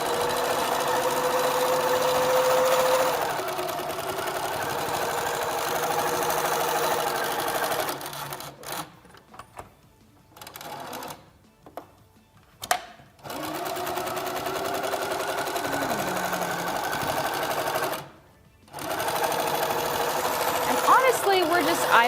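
A Little Rebel sewing machine stitching through bulky quilt seams runs in a steady, fast mechanical whir with several abrupt stops and restarts, close and prominent, with some talk over it.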